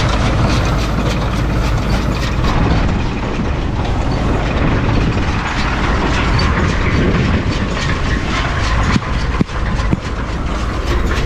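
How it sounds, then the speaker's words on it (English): A New Holland 644 baler running in a grass silage field, a loud steady mechanical drone with rattling and rhythmic clatter throughout, a brief knock near the end. "Oh man, that's typical of a New Holland baler."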